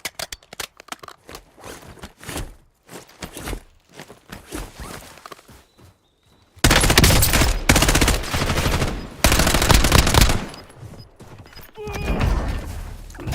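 Video game gunfire, bursts of rapid shots and single cracks that start sparse and quiet, then turn into loud, dense, sustained automatic fire through the second half.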